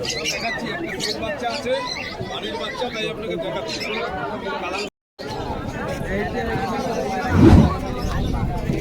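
Pigeons and doves at the Beldanga bird market: bird chatter and faint coos under dense crowd babble and nearby talking, with a short dropout midway and a louder thump near the end.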